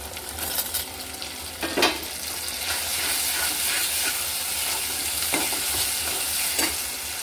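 Ginger-garlic paste and tomato hit a pan of browned onions for a potato curry, setting off a loud, continuous sizzle with occasional scraping stirs and clinks of a utensil against the pan.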